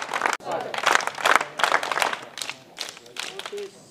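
Scout and guide students at a college break into welcoming applause for a former principal, a dense run of claps in repeated waves, close and fairly loud, with voices mixed in.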